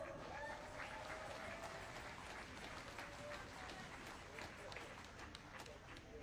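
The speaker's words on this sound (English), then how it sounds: "Please give them a round of applause." Rally crowd in Melbourne applauding steadily outdoors, a dense wash of clapping with scattered cheers sustained throughout.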